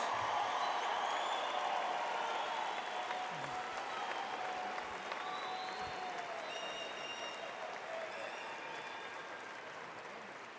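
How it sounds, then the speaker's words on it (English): Steady applause at a December 2014 university commencement honoring graduates, a broad crowd of clapping that holds evenly and slowly thins toward the end, heard from a distance in a large hall. "Let's give our graduates another round of applause"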